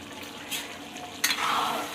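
A spoon stirs crab curry in a pan, with two brief scraping, sizzling strokes rising over low frying noise, the second one louder and longer.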